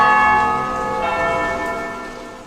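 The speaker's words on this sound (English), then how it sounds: "When you hear the noon bells tolling, it's time for Angelus" Church bells toll at noon for the Angelus, a loud, sustained ringing with rich lingering overtones that slowly fade, heard alone without talk.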